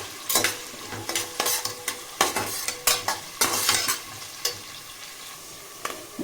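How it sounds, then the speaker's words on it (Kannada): Curry leaves and onion frying in a pan for dal khichdi, a soft sizzle beneath frequent sharp clinks and scrapes of a spoon stirring against the pan, close by. "ಕರಿಬೇವು ಮತ್ತೆ ಈರುಳ್ಳಿ. ಇದೊಂದು ಸ್ವಲ್ಪ ಫ್ರೈ ಆಗಲಿ."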